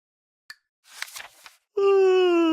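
A brief click, then a breathy rising exhale, followed by a loud, drawn-out tonal moan that sounds like a voice imitating a cat's big yawn.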